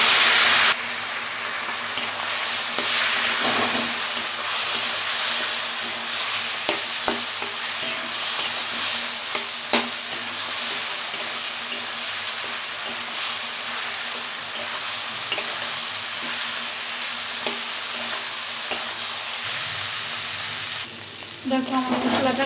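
Spice paste of ginger, chilli, turmeric and cumin, loosened with a little water, fries in a pan with a continuous loud sizzle and bubbling, broken by occasional scraping stirs.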